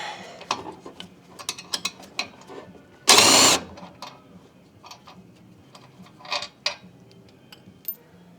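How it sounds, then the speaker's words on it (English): Ratchet wrench working on an exhaust bolt of a 2006 R53 Mini during rear subframe removal: sparse clicking ticks in short bursts, with one loud harsh scraping burst midway, in a quiet garage. "going to do the easiest exhaust bolt removal ever"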